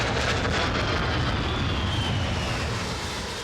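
Royal Navy fighter jets approach to land on the aircraft carrier HMS Illustrious, a loud, broad engine roar with a faint rising whine that holds steady and then eases slightly, with no voices.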